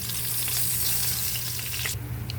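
Ginger sizzling in hot oil seasoned with pepper in a wok, a loud continuous crackle and hiss that eases slightly near the end, heard alone.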